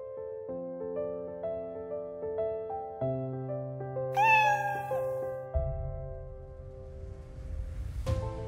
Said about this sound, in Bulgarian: разбира, че това е котка